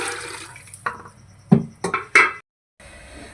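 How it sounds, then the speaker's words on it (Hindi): Water poured into a pressure cooker holding chickpeas being cooked for Lahori chikar cholay, heard as a few short splashing, sloshing bursts close up, with a brief quiet gap before the steady background returns. "अब मैं 1 लीटर कम से कम पानी और डालूंगा इसके अंदर"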